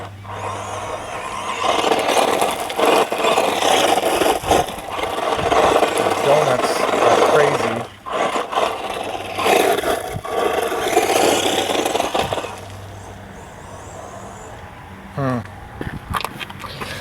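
Luctan S912 two-wheel-drive RC truggy driving over ground, a rasping high electric motor whine with scraping and rattling that surges and drops, with a voice talking over parts.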